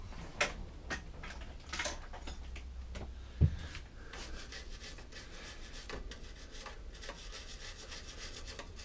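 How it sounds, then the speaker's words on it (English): Steady rubbing and scrubbing as a toothbrush cleans the carburettor of a Briggs & Stratton lawnmower, a dry bristly rasp repeating in short strokes, fairly close, with a single sharp tap partway through. "and then back that up with a bit of a toothbrush job"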